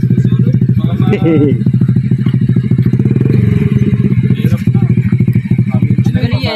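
A brand-new motorcycle still in break-in, its belt-driven engine labouring steadily up a climb on a trail to Collasi Falls, a continuous loud close drone with rattling clatter, while people talk over it.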